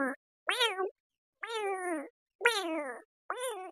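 A kitten gives a series of five clear, close meows calling for its mother, each short cry separated by brief silences.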